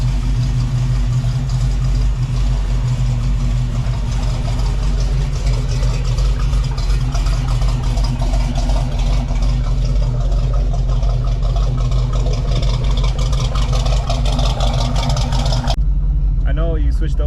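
A car with a 454 engine drives after an aluminum wheel repair, its engine a loud, steady low rumble throughout, with road and cabin noise on top, cutting off abruptly near the end.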